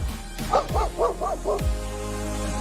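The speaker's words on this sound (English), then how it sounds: "The dog is barking." A dog barks five times in quick succession, short sharp woofs at an even pace, fairly close, followed by a low steady background hum.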